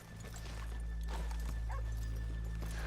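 In Red Dead Redemption 2, horses plod with soft hoof clops and give a brief neigh partway through, set over a constant low rumble of game ambience.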